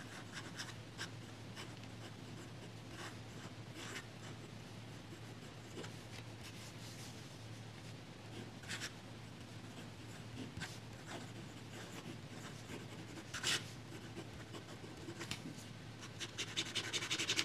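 A fountain pen with an extra-fine F nib writes on paper in a red ink test, giving quiet, intermittent scratchy strokes throughout, with a low steady hum beneath.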